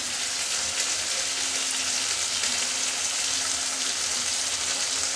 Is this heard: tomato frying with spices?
yes